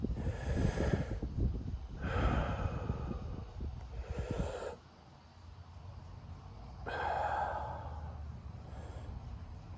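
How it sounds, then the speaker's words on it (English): Slow, deep breaths during a senior isometric stretching exercise, several long airy inhales and exhales with pauses between, close and fairly loud with no talking. "Take a deep breath."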